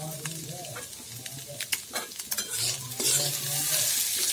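Egg curry being stirred in a pan just after green chillies go in, with a steady sizzle under repeated scraping strokes of a spoon, close and moderately loud, no talk.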